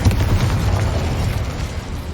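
A Confringo blasting spell explodes in Hogwarts Legacy inside a small mine, a loud rumbling boom with a low roar that holds steady and slowly fades.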